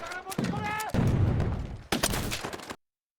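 Bursts of gunfire crackle and boom in a loud, dense 1937 battle scene between Chinese and Japanese forces, with a heavy blast partway through before cutting off abruptly.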